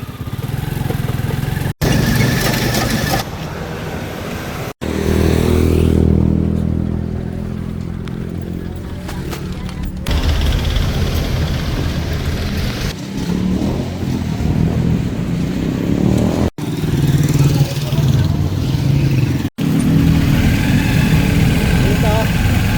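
A motorized tricycle ride, with a steady mid-pitched engine rumble running throughout, close and loud, and a few abrupt breaks. Road noise and occasional voices sit under the engine.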